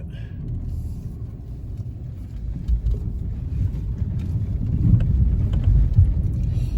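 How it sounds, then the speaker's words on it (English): A small automatic car drives through a shallow river crossing in Morocco's Draa Valley, giving a steady low rumble with water wash and wind buffeting that builds toward the end, with no talking. "We made it through in our horrible little car."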